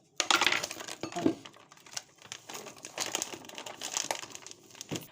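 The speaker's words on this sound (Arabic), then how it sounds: "نفتح بقى كده الدقيق بتاعنا، هفضيه بالمره في العلبه بتاعته." A flour bag being opened and poured out into a container, giving close crinkling and rustling of the bag with soft pattering and a few knocks from the container, steady and busy throughout.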